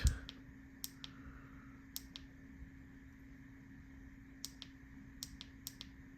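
A tactical flashlight's switch clicks in a quiet room, with a few crisp, separated clicks spaced irregularly against a faint steady hum.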